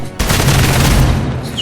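A burst of gunfire from the strategy video game Marvel's Midnight Suns, loud and dense, running as a continuous volley for over a second.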